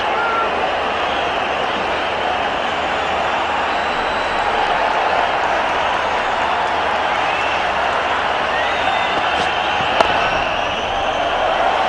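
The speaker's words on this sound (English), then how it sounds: "Great response from the crowd" A large stadium crowd at an India vs Australia T20 cricket match roars and cheers as a continuous wash of noise, with a commentator speaking over it.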